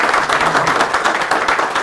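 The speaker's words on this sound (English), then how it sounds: "Give them another round of applause." Audience applauding after a business school distinguished lecture, a loud close wash of many hands clapping in a steady patter for under two seconds.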